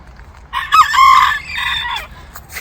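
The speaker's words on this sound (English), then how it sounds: "And there's a little banty rooster, kind of like little Joshy, singing away" A small bantam rooster crows once, loud and near, among backyard chickens in an Atlanta urban garden, with faint clucks around it and no talk.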